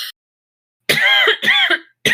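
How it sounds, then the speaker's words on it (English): A short cough, then a pause followed by a couple of harsh, throaty coughs or throat-clearing bursts, close and loud. "That was a cough."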